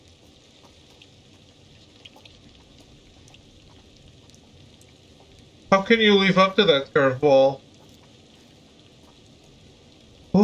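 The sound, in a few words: rain in video game The Dark Pictures Anthology: The Devil in Me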